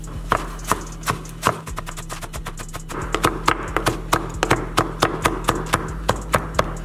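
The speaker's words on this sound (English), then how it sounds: "don't over chop the herbs on the board" Italian parsley chopped with a knife on a cutting board: brisk, fairly even taps close by, a few irregular knocks at first, then a quicker steady rhythm, over a faint low hum.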